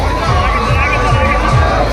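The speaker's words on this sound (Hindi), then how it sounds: "देखिए आप लोग कितना भीड़ है," Dense crowd hubbub at the Nagra fair during Navratri, a steady wash of many overlapping voices and chatter close around, continuous and loud throughout.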